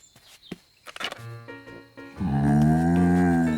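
A cartoon cow lets out a long, loud, drawn-out moo after a few thumps and footstep-like knocks, the call swelling and holding steady to the end.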